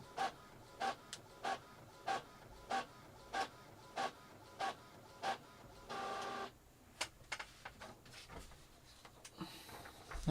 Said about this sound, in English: Why does this printer just refuse to work?